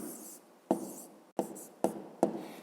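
Hand-written answer to a fifth-grade math problem, a pen or pencil on paper giving soft, close scratching strokes with several sharp onsets and short pauses between them, quiet and with no talk.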